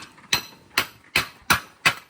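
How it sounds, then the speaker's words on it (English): Five sharp metallic hammer strikes land at an even, steady pace, loud and close, with short ringing after each blow, hammering on a stuck part while removing a VQ35DE engine. "You gotta get a hammer and smack it."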